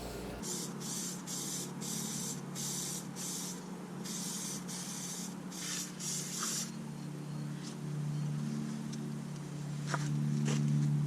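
Aerosol spray paint hisses in a string of short, repeated bursts as a square steel tubing frame for a snowmobile bait bucket carrier gets a black base coat, close up, with quieter handling noise after the spraying stops.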